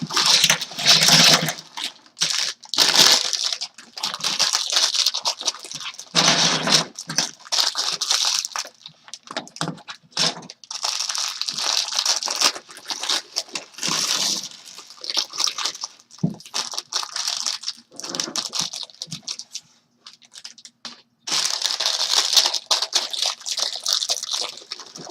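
Plastic bags from a LEGO Star Wars Resistance Bomber set crinkling and crunching as they are torn open and handled, a close, busy rustle in repeated bursts with brief pauses, no talking.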